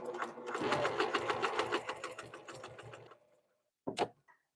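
A sewing machine stitching a bag runs loud and close in a rapid steady rhythm for about three seconds, then stops, followed by a brief click.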